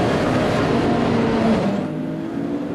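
An Audi racing car drives past at Brands Hatch during a touring car race, its loud engine roar holding steady then falling away sharply as it moves off into the distance.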